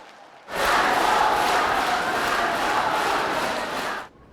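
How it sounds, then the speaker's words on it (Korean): Supporters cheering and applauding as Han Dong-hoon enters Guinsa temple in Danyang, a loud, sustained crowd roar that starts abruptly and holds steady for several seconds before cutting off. "지지자들의 박수와 환호가 나옵니다"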